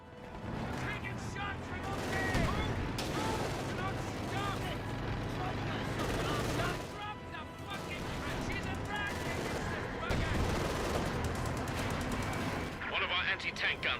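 Battle gunfire in the WWII strategy game Company of Heroes 2, with rapid machine-gun bursts, rifle shots and heavier blasts layered over constant rumbling combat noise.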